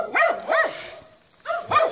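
Dogs bark in rising, yelping bursts: two quick barks, a brief pause, then two more, fairly close and loud.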